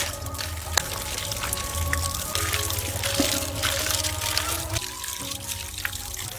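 Cut snakehead (shol) fish being washed by hand in a basin of water in a home kitchen, a steady trickle and slosh of water with soft splashes running throughout, close by.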